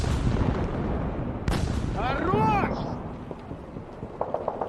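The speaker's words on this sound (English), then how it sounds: "It fired a precise shot" A tank fires a single heavy shot in combat, a sharp boom partway through followed by rumbling battlefield noise. A voice speaks over part of it.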